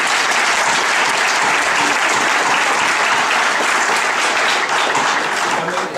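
An audience at a New Mexico House hearing on driver's licenses for undocumented immigrants bursts into sustained, dense applause and cheering, a loud continuous wash of many hands and voices with no speech over it.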